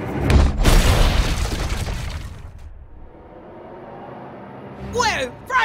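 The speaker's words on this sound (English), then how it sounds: "There's an explosion up ahead!" A cartoon explosion booms loudly at the start, a crashing burst that rumbles and fades over about two seconds, set on a bullet train in the Chicken Stew cartoon, followed by quieter background noise and a short squeaky sound at the end.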